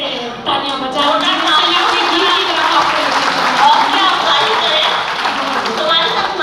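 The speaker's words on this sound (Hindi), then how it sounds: "एक बार जरा फिर से तालियां बजाओ" Audience at a Hindi poetry recital breaks into clapping, a dense, fairly loud wash of applause lasting several seconds, with a voice briefly audible over it.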